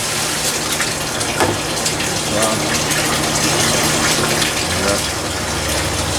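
Water gushes loudly and steadily from a garden drain into a 5-gallon container, a dense, close filling roar that holds without a break for several seconds.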